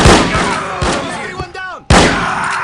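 Gunfire and explosive impacts in the first-person shooter No One Lives Forever, loud bursts of shots with heavy thuds, a falling whistling sound near the end, then another loud blast.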